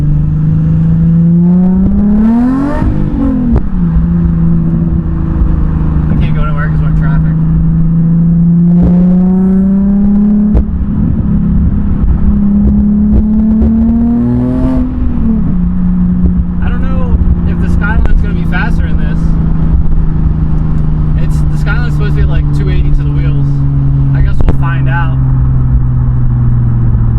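A modified Nissan 350Z engine accelerating, loud and close: a continuous droning growl whose pitch climbs and drops with each gear change and throttle swell across the whole stretch.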